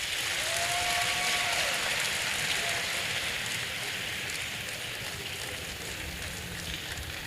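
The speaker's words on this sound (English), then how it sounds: "Another round of applause for our lecturer." Audience applause after a university lecture, a dense, steady wash of clapping from a large crowd that continues unbroken at an even level from start to finish.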